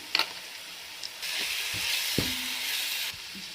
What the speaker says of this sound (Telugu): ఈ విధంగా మసాలా వేసుకున్న తర్వాత ఒక ఫైవ్ మినిట్స్ అలా వేయించుకోండి